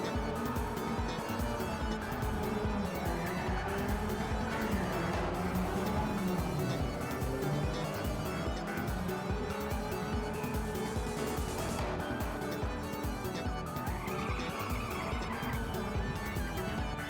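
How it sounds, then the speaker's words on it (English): Race car engine in the video game Ridge Racer Type 4, a steady loud roar with shifting pitch as it accelerates, and brief skidding squeals partway through, no talking. "the roaring of the engine"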